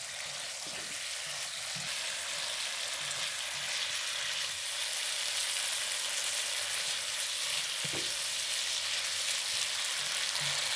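Pepper fries in a pan for a shrimp curry stir fry, giving a steady, close sizzling hiss with a few faint clicks and stirring knocks.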